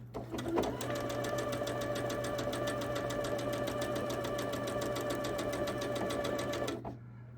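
A sewing machine stitches a quilt block in a long, even run of rapid mechanical clatter, close and steady for about six seconds before stopping.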